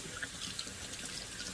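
Cool tap water runs over fresh fish being rinsed clean, a continuous splashing trickle with small drips, close by and steady.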